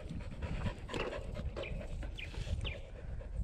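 A dog moves close by on a mountain bike trail at Red Hill, panting steadily with a few faint whimpers, its breathing and shuffling filling the whole stretch.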